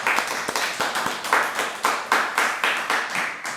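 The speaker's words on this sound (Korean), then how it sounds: "우리 하나님께 영광의 박수 올려드리겠습니다" Congregation clapping together in a church during a Sunday service, steady loud rhythmic bursts of many hands slightly uneven in timing, without speech.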